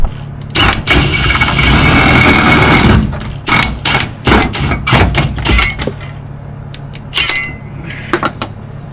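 A power drill whirs loudly in a sustained burst, then stops and restarts in several shorter spurts with clinks and pauses, drilling a hole in a Ram 3500 fuel tank.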